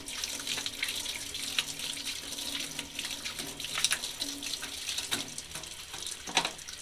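Steady stream of tap water runs into a sink while a paint brush is rinsed and combed clean in a paint shop, a continuous close splashing hiss with occasional sharper spatters.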